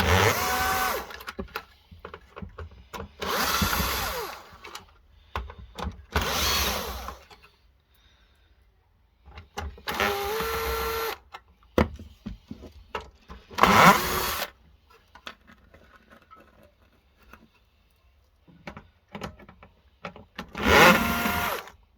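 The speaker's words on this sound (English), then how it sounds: "And the other side, again, we'll just start undoing the screws." A power tool whirs in short repeated bursts, each lasting about a second, while screws are undone from the steel panels of a laser printer being scrapped, with quiet handling gaps in between.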